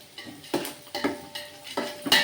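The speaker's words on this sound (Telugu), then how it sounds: "ఇదిగోండి సాల్ట్ వేసుకున్నాము. వేగుతూ ఉంది." Salted ingredients for mutton biryani are stirred in a hot pan, giving four or five evenly spaced scraping strokes over a faint sizzle, close by and with no voices.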